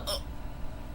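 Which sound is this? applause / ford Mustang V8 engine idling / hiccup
hiccup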